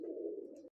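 White-eyed white Punjabi pigeons give a single low, steady coo lasting under a second, close and fairly quiet, with no other sound around it.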